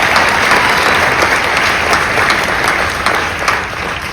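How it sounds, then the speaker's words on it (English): An audience at a Meghan Markle speech breaks into loud, continuous applause, a thick wall of clapping that holds steady for several seconds before easing slightly near the end. "Please, a round of applause for the camera."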